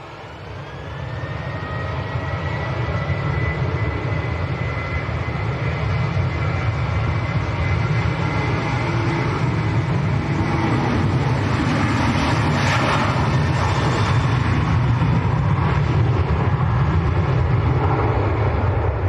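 Ryanair airliner departing for Dublin at Manchester Airport, a loud sustained engine roar that builds and holds steady, with a rising whine layered over the broad rumble.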